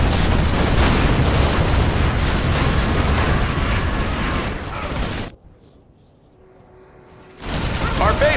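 Rockets exploding in the real-time strategy game Command & Conquer Generals, a dense barrage of loud booms and crackling blasts that cuts to near silence briefly before the bursts resume.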